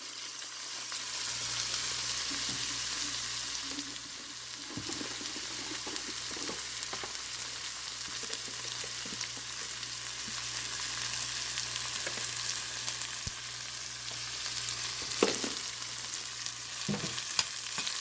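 Large onions sautéing with salt in a pan, making a continuous, even sizzle throughout, with occasional soft scrapes and taps from stirring under a low steady hum.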